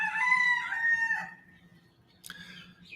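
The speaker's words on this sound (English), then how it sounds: "I've seen people commenting about my Roosters again." A rooster crows loudly and close, one long drawn-out cock-a-doodle-doo followed by a short, fainter call after a pause, over a low steady hum.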